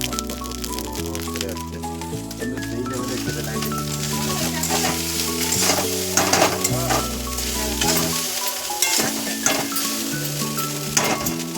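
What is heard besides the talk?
frying leftover soaked rice with turmeric in pan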